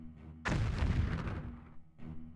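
A loud, booming explosion from the Ring of Red video game bursts out and rumbles for about a second and a half before fading into the game's background sound.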